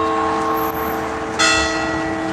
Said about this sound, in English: I like the sound of bells too.